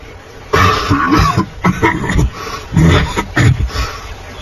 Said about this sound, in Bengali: বার কয়েক কেশে গলাটা সাফ করে নিয়ে ঠাকুরদা বলতে আরম্ভ করলেন